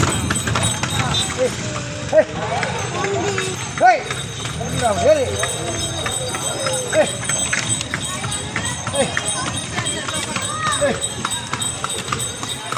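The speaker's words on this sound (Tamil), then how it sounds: "நாங்கள் இப்போ குதிரை வண்டியில் போய்கிட்டு இருக்கோம் குதிரை வண்டி" A horse-drawn cart rolls along a road toward a hill temple, its hooves clip-clopping in a steady, close rhythm. People talk throughout, and a few louder calls rise above the trotting.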